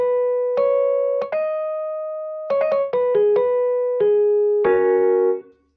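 A dry synth melody from an FL Studio beat with no effects, a sequence of clean sustained tonal notes stepping between pitches with clear gaps, alone and fairly loud.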